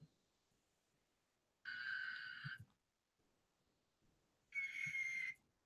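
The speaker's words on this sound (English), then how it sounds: "the Aztec death whistles are to cause like a high pitched I think it's supposed to be noise. like a shrieking" Two piercing, shrill blasts from an Aztec death whistle, each about a second long with a sustained high shriek, separated by near silence and faint breathing.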